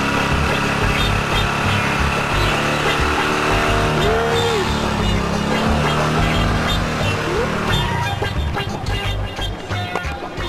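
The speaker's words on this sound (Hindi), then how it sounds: "गाड़ी का आवाज" A car engine as a vehicle approaches, a loud, continuous motor rumble with shifting pitch that dominates throughout and eases slightly near the end.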